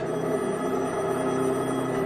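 Telephone bell ringing steadily and loudly indoors, a continuous dense electric trill that fills the whole moment without pause, with no voices over it.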